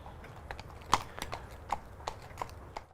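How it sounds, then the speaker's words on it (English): A horse walks with a steady, unhurried clip-clop of hooves, single distinct hoofbeats spaced about half a second apart, moderately close over a quiet background. "Now the horse may start walking."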